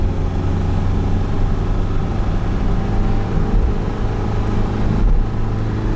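An old diesel Mercedes with a faulty gearbox stuck in one gear makes a test run, its engine droning loud and steady with a deep, rough rumble close by, no voices.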